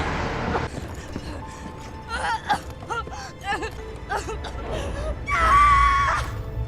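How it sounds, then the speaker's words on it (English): An animated character in Arcane scream-cries, with ragged sobbing wails and gasps building to a loud, sustained high-pitched shriek near the end, over dramatic background sound. "Jinx is scream crying."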